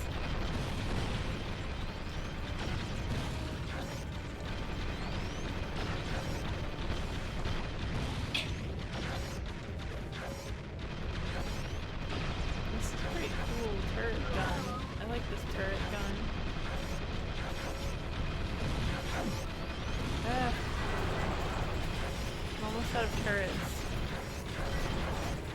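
Rival turrets trading fire in Ratchet & Clank: Going Commando on PS2, a steady barrage of explosive pops and bursts layered over mechanical game noise throughout, with a player talking over it.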